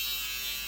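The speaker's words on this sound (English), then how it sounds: "if you don't have a fabric shaver, you also need that" A handheld electric fabric shaver runs with a steady, even motor buzz that holds at one level for under a second, close and alone.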